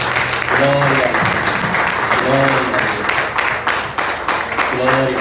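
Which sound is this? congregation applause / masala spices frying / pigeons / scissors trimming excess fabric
congregation applause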